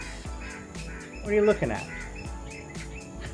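A bird calls close by on a morning outing, a few short chirps and squawks breaking through while someone talks over it.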